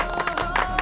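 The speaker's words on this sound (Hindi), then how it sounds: "इस सोच के लिए जोरदार तालियां होनी चाहिए तिवारी जी" A TV sitcom studio audience applauds in a steady, dense wash of clapping and crowd noise, with a few faint cheers running through the whole short burst.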